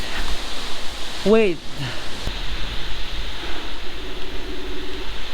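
Strong typhoon wind roars as a steady broadband rush close to the microphone, buffeting it throughout, while a voice briefly exclaims over the gusts.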